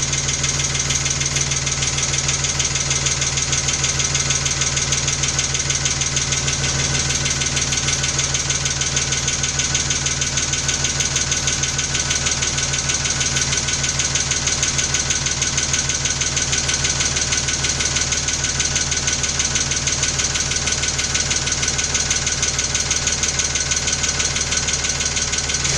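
A 1993 Geo engine idles with a loud, steady mechanical knock and vibration that stays constant and close throughout, with no talking.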